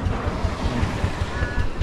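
Strong waves crash and wash steadily close by, with a continuous rough roar and gusting wind buffeting the microphone.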